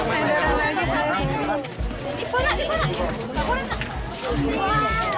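A dense crowd of visitors at Borobudur temple fills the scene with continuous overlapping chatter and babble, loud and steady throughout, with many voices talking at once close by.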